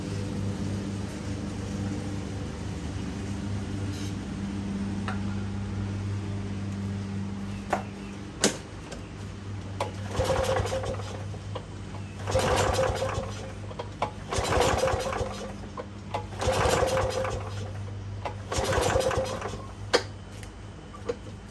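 Several rough pull-start bursts from a John Deere JS30 lawn mower engine that sputters without catching, over the steady drone of another mower running in the background.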